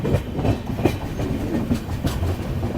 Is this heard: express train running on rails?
yes